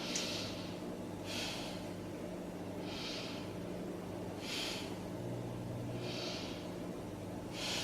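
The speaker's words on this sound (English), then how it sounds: "Let's try 3 breaths here." Slow, deep breaths drawn in and pushed out during a beginner yoga stretch with hands on the knees, about six soft airy rushes in a steady rhythm, close and clear over a faint low room hum.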